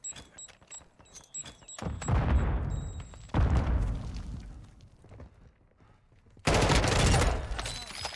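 Grenade explosions in Call of Duty: Warzone: three heavy booming blasts, each with a long rumbling decay, separated by quieter stretches with light footsteps and small clicks.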